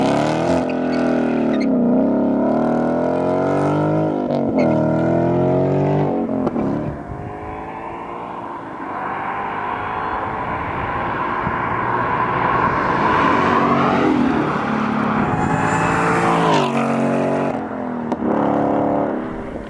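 A Ford Mustang with a factory exhaust accelerates hard, its engine rising in pitch through repeated gear pulls with brief drops between shifts, loud and close for nearly twenty seconds with no talking.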